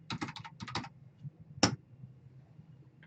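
Keys on a computer keyboard are tapped in quick clustered bursts while a router command is entered, a few clacks, a pause, then one sharper keystroke, close and quiet.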